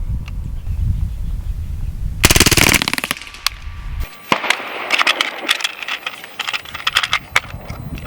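A Hatsan Blitz .30 caliber air rifle fires a full-auto burst outdoors on a 100-yard range, a loud rapid string of sharp pops, followed by scattered single cracks and faint rattles.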